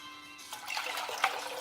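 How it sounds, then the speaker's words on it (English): Water poured into a pot for thyme tea, a steady close trickle and splash that builds slightly over a second and a half, with no talk. "I'm gonna add 4 cups of water."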